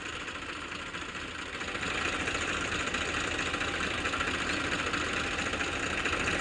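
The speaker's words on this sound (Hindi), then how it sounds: "दोनों ट्रैक्टर एक साथ स्टार्ट होते हैं" Farmtrac and Massey Ferguson tractors run together in a tug-of-war contest, a loud, dense, steady diesel engine roar with a rough knocking texture, swelling slightly after the first two seconds.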